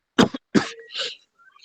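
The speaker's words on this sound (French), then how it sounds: "Tu vois que je tousse" Two sharp coughs close to the mic, followed by a shorter throaty cough that trails off, then near silence.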